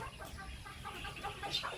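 Chickens cluck softly and briefly in a short, quiet stretch of farmyard sound.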